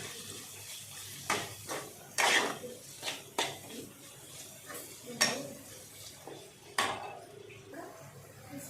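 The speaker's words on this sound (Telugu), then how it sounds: "పసుపు, అల్లం వేసుకొని కలుపుకోవాలి." A bitter gourd fry being stirred in a pan with turmeric and ginger, heard as a handful of separate scraping and clattering strokes of a spoon against the pan over a quiet background.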